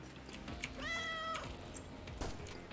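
A cat meows once, a drawn-out mid-pitched call rising over game background noise with no talk, in the shooter game Amid Evil.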